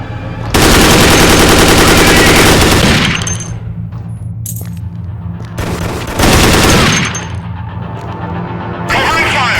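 Automatic gunfire in the shooter game Dead Effect 2, loud sustained bursts of rapid shots separated by short lulls, close and dominant over the game's background sound.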